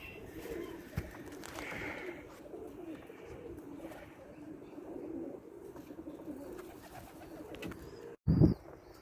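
Racing pigeons at a loft cooing softly in the sun, a faint steady murmur of low coos with occasional chirps, distant and quiet, ending in a brief louder rustle near the end.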